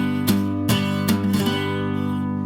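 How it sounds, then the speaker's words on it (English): A guitar strummed in a requinto drag rhythm, the pick raking across the strings, gives three or four bright scraping strums over sustained ringing chords, loud and close with no voice. "Just scrape through the guitar, rake it"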